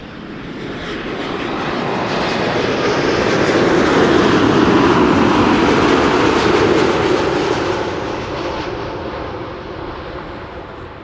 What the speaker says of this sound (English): Air Canada, flight 900 arriving from Montreal, Boeing 7878, Dreamliner